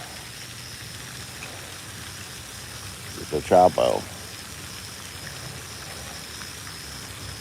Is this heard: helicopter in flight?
no